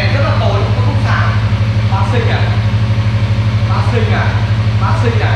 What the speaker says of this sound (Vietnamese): nổ máy lên cho anh em